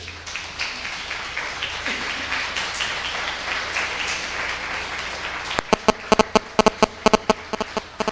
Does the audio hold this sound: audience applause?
yes